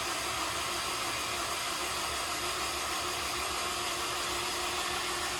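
A built F24 engine runs after starting, giving a constant, hissy, even drone close to the listener with no talking.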